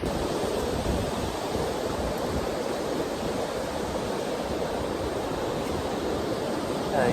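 Surf rolls in at Pendower Beach in Cornwall, a continuous broad wash of breaking waves mixed with wind, steady and fairly close, with no voices.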